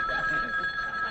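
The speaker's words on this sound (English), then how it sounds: "They're calling you on the telephone." An old telephone rings steadily with a continuous bright electric bell tone, held at even loudness throughout with faint background murmur beneath it.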